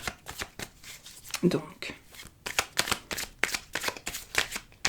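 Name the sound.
shuffling a deck of tarot cards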